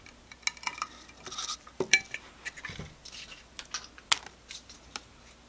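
Scissors or cutters snipping artificial flower stems shorter for a table centerpiece, heard as scattered sharp clicks and snaps with light rustling and handling of the stems, close up, with no voices.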